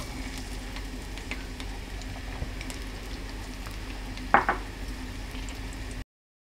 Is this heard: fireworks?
no